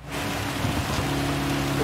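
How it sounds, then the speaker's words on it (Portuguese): Heavy rain in Gran Turismo 7 on PS5, a dense, steady wash of rainfall noise over a low car engine drone, continuous and loud throughout. "Pelo barulho, parece que tá chovendo, assim, absurdo"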